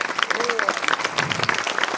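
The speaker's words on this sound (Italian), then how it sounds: "Intanto un bellissimo applauso io lo farei a Caterina Murino" A live audience in Tortolì claps for actress Caterina Murino, a dense, fairly loud burst of applause with some voices mixed in.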